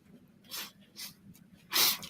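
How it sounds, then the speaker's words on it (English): A few short nasal sniffles from a woman with a winter cold, soft and close, coming in quick separate bursts indoors. "got a little sniffle"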